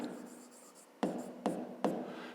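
Pen or chalk strokes from writing a triangle definition during a fifth-grade maths lesson: a soft scratchy drag, then three sharper, louder strokes in steady succession, close and alone.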